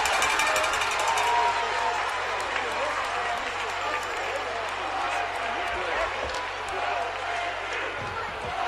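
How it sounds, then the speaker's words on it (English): Crowd noise at a hockey game, a dense wash of applause and voices from the stands of a fairgrounds arena, steady and loud throughout with a low hum beneath. "Applause from everyone."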